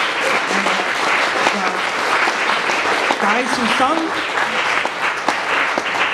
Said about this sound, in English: We give a round of applause for Chuck Davis